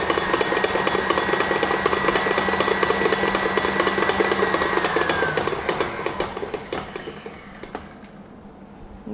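Stand mixer beating softened butter, a steady loud motor whir with rapid rhythmic beater clatter that runs continuously for several seconds before winding down and fading near the end.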